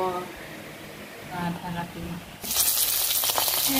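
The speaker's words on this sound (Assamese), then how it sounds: "এয়া মূলাখিনি অকণমান ভাজি কৰি লৈছোঁ" Radish sizzles in a frying pan, the hiss bursting loudly partway through after a stretch of quieter kitchen noise and a voice talking.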